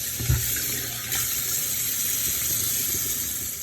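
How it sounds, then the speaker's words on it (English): Cold tap water runs steadily over beets in a sink, a constant close hiss and splash with a brief low thump near the start, no voices. "Put it under cold water."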